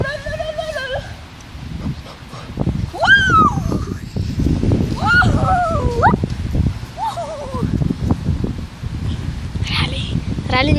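A Saint Bernard whimpers and whines in high yelping cries, with a few short barks and yips, close and loud amid rustling and handling noise outdoors; a person talks over it throughout.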